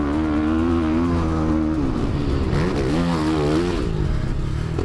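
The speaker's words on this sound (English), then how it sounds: "On board the Ducati Desmo 450." Onboard sound of a Ducati Desmo 450 race motorcycle engine at speed on a racetrack, a loud, continuous engine note that dips and climbs as the rider shifts and accelerates.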